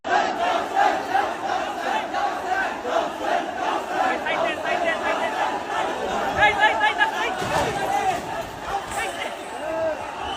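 A crowd surges and runs at a chariot procession where a stampede broke out, a dense, continuous roar of shouting voices and hubbub that stays loud and close throughout.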